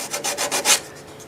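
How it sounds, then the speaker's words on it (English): Hand sanding along the edges of a freshly turned wet cherry wood bowl: about five rhythmic back-and-forth rasping strokes, close and moderately loud, then a quieter trailing rub. "I'll sand these edges here to get rid of the little bit of flash"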